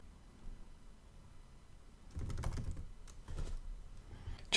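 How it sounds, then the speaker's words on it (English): Typing on a computer keyboard while entering article text, quiet at first, then a run of close, rapid, irregular key clicks over a low room hum. "just typing in a very basic spin text article"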